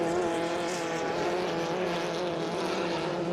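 Formula 2500 race cars on a circuit give a continuous engine roar, steady and fairly loud, with no pauses and no commentary audible over it.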